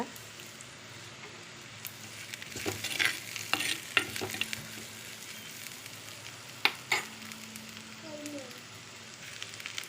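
Onions sauté in a pan with salt while cooking manathakkali greens poriyal, a continuous close sizzle broken by stirring clatters and spoon knocks, with faint background voices.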